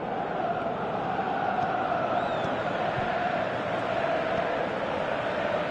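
A football stadium crowd roars in a dense, continuous wash of noise, steady and loud throughout without distinct cheers standing out.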